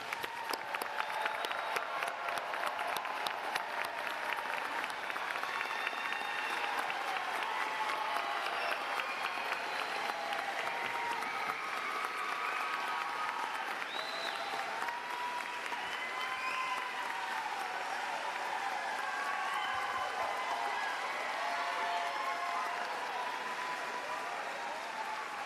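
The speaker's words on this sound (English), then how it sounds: "Let's give all the graduates a big round of applause." Sustained applause from a large audience at a university commencement ceremony, a dense, steady roar of many hands clapping that holds at an even level for the whole stretch, with no speech over it.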